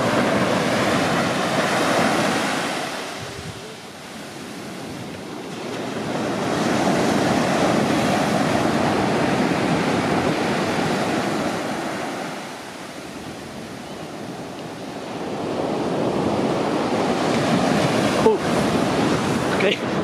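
Ocean surf rolls onto the beach at Nazaré, Portugal, broad waves swelling and receding in slow surges roughly every five seconds, with wind buffeting the microphone.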